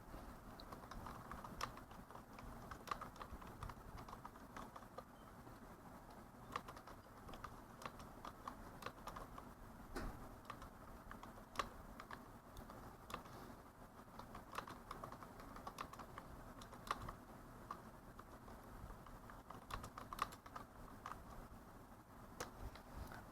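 Typing on a computer keyboard, a quiet steady stream of small key clicks in irregular bursts, continuous and close, with no talk.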